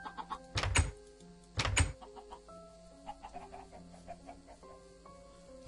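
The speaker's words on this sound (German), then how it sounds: "Hier mit den Hühnern, wo man teilweise denkt, die sind irgendwie hinterm Haus." Chickens in the Minecraft video game cluck in two loud bursts early on, then give softer scattered clucks over a steady in-game background hum.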